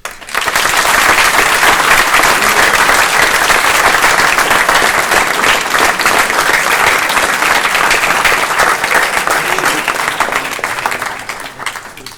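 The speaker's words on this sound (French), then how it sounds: "donc on peut applaudir" Audience at an amateur comedy theatre evening gives sustained applause, a loud, dense wall of clapping that holds steady for over ten seconds before tapering off at the end.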